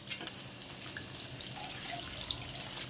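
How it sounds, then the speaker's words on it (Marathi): Water splashes and trickles steadily into a pan of fried masala for fish curry, a soft continuous pour with light droplet sounds, close by and alone. "बघू शकता अशा पद्धतीने पाणी टाकलं आहे आपण"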